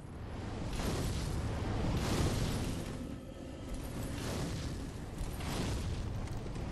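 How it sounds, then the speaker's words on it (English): Distant artillery in Dark Souls III booms repeatedly in a low, rumbling roll of explosions, steady and moderately faint with no voices. "Oh, see the artillery up there."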